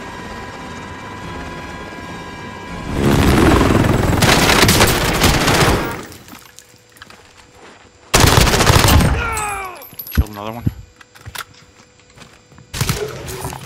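Video game gunfire rings out in two loud, dense automatic bursts separated by quieter stretches, with scattered single shots and the drone of a helicopter nearby.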